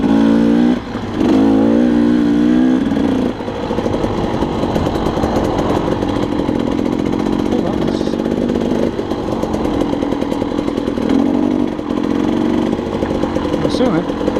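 A dirt bike engine drones and revs while riding single-track and double-track trail at Rampart Range, Colorado, loud and close throughout, with throttle rising and falling and a few brief rev bursts.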